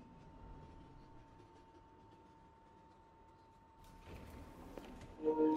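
A New York subway 3 train running on the White Plains Road local line in the Bronx: faint, low rumble of the moving car with a steady hum, growing a little louder and busier toward the end.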